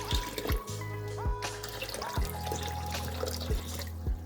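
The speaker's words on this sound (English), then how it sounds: "I'm going to go ahead and add the vinegar." Vinegar is poured into a yarn-dyeing pot, giving a run of wet drips and gurgling liquid splashes at an irregular pace, close by and moderately quiet.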